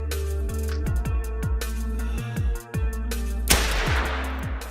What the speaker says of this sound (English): we'll take the shot with iron sights